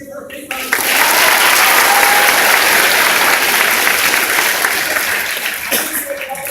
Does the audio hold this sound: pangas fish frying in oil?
no